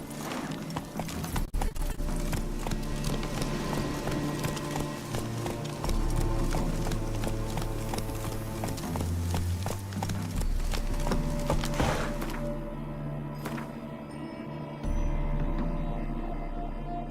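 Roach the horse gallops in The Witcher 3, a steady close clip-clop of hooves running continuously over a bed of game music.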